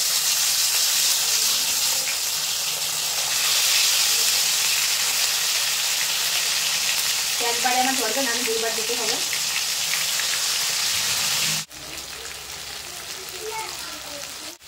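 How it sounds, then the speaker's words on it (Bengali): Marinated chicken chaap pieces frying in plenty of hot oil, a loud continuous hiss and crackle that holds steady, with someone speaking briefly over it and a short break near the end. "ভেজে নেবো মাংসগুলো।"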